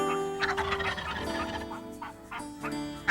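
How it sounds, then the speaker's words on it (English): Wild turkeys gobble on a spring ridge, several rattling calls in quick succession, close and clear, without speech. "The gobble of the wild turkey is heard on ridges and in valleys"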